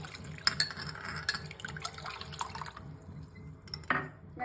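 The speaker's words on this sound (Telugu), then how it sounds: "ఆ వాటర్ని దీంట్లో పోసుకుందాం." Tamarind water is poured into a jaggery mixture for Ugadi pachadi, a soft, quiet trickle with scattered drips and light liquid splashes running throughout.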